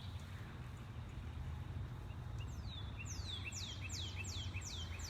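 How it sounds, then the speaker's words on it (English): Birds sing outdoors in a spring garden, a series of repeated sweeping chirps rising faintly over a steady low rumble of background noise. "You can hear the birds are out today enjoying this weather as well"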